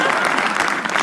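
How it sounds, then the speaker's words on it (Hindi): An audience at a comedy roast show claps loudly and continuously for a comedian, dense applause filling the whole short moment. "एक बार चिराग के लिए ताली बजा दो।"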